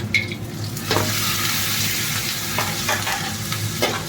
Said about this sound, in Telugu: చూడండి చిట్టుపట్టుకొని ఎలా వేగుతున్నాయి.